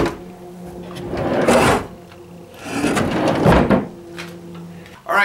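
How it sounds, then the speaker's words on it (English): A homemade wooden drawer slides open and shut twice, each a loud rumbling scrape of wood on wood, with quiet pauses between the strokes. "the drawers all slide fairly smoothly, for this being my first drawer that I've ever made"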